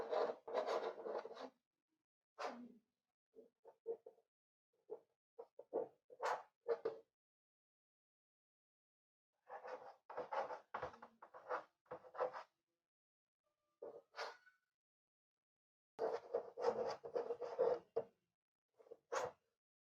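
Hand writing on a board, bursts of scratchy strokes separated by quiet pauses, faint and close, with no speech.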